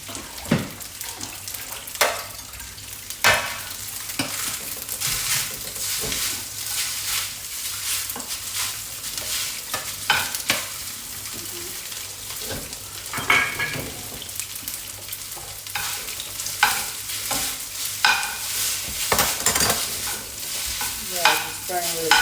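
Vietnamese rice noodles (hu tieu xao) frying and being stirred hard in a pan, with continuous sizzling and repeated loud scraping and clattering strokes throughout.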